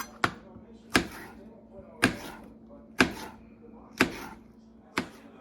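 A knife slices through chicken breast and strikes a cutting board in six crisp, evenly spaced chops about a second apart, close and clear against a quiet background with a low hum.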